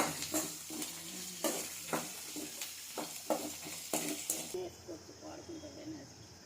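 Garlic, mustard seeds and dried red chillies fry in hot oil for a mango pickle tempering, a crackling sizzle punctuated by rhythmic stirring scrapes that thin out and quieten toward the end.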